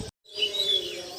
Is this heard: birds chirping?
yes